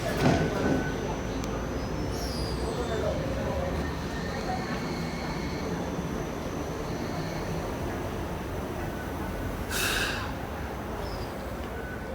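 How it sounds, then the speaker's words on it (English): A light rail train loops around toward its terminus stop, giving a steady low rolling rumble throughout, with a brief high squeal of wheels on the curve near the end. "This train will loop around and get back into the terminus spot."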